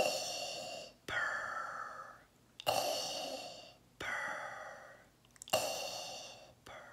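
A voice imitates Darth Vader's mechanical breathing, alternating long hissing breaths in and out, each ending in a sharp cutoff, repeated about five times, close and quiet.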